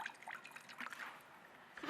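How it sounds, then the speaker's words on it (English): Mirin poured into a marinade with tamari: a soft, close trickle and splash of liquid, faint and brief with small gurgles, heard alone without talk. "A fat splash of mirin."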